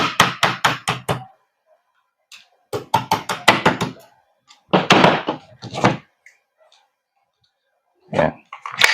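A G&G MGCR556 airsoft gas blowback rifle is pried open, producing loud close bursts of rapid knocking and rattling clatter with quiet gaps between them, and a brief soft voice in between.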